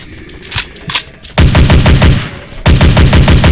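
Rapid bursts of M4A1 rifle fire in a first-person shooter game: a few scattered shots, then two long, loud automatic strings, close and punchy.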